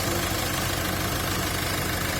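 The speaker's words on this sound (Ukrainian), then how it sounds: "А, це дивіться, як працює мотор." A 2018 Renault Master van diesel engine idles close by, a dense, even rumble with a steady knocking rhythm and no other sounds.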